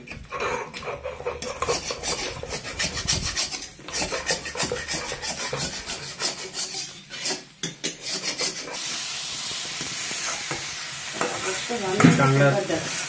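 Crab curry masala sizzles and fries loudly in a pan while a utensil stirs and scrapes against the metal in repeated close strokes, ending in a steadier hiss.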